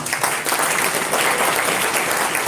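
An audience at an entrepreneur convention applauds itself, producing a loud, continuous wash of many hands clapping at once that holds steady for the whole stretch.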